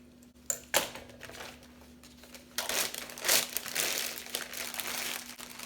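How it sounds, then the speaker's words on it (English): Plastic Ziploc bag crinkles and crumples in close, irregular bursts while icing is put inside, with busier handling toward the end and no talking. "place your icing in your bag. Make sure you zip it up"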